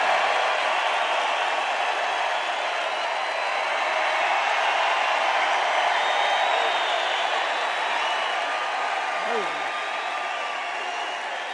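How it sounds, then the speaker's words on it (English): Rally crowd applauding, a dense, steady wash of clapping and cheering that holds at a constant level for the whole stretch, with no clear single voice above it. "I don't think I've ever introduced anyone that got applause like he just got."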